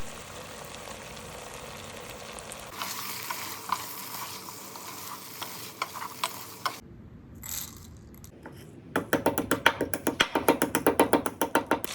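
Chicken with spices and cashew paste sautés in a pan, a soft sizzle with utensil scrapes, a brief pause, then a fast rhythmic run of loud scraping stirring strokes near the end, no voices.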